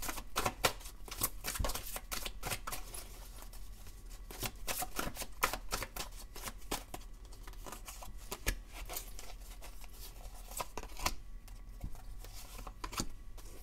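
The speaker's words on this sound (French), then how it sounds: "j'ai envie de te prendre aussi une petite carte message du paradis" Oracle message cards are shuffled and drawn from a deck, giving a steady run of dense papery riffles and flicks close up that carry on unbroken, with no talking.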